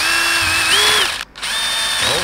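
A power drill with a wood bit whines loudly up close, its pitch rising under load, cuts out briefly, then spins up again.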